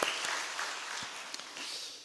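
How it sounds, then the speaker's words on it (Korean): A church congregation gives a hearty round of applause, a steady wash of many hands clapping at moderate distance that holds evenly before tapering off. "여러분 우리 한번 힘찬 박수로 격려합시다"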